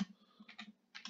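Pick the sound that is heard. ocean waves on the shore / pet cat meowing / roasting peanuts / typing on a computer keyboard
typing on a computer keyboard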